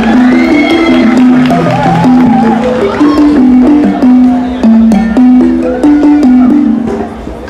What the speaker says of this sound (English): Ladies and gentlemen, please have a fantastic round of applause for the evolution of African fashion choreography